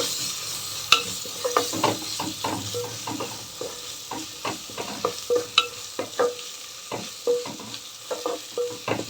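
Ginger paste and pepper powder frying in a pan for a vegetable little-millet khichdi, with a steady sizzle under repeated sharp scrapes and clinks of a spoon stirring against the pan, close and fairly loud, no talking.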